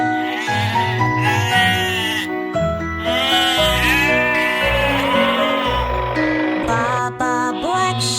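Sheep bleat repeatedly as a nursery rhyme sound effect, loud wavering cries following one another over a musical backing.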